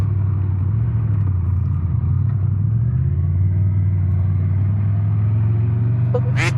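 Honda Transalp motorcycle being ridden, a steady low engine drone with shifts in pitch as gears change, a brief rattle near the end, and no talk.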